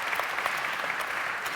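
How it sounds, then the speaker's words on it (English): An audience at a climate action talk breaks into brief, spontaneous applause, a steady wash of clapping from a crowd lasting a second or two, with no voices over it. "is this the first impromptu applause?"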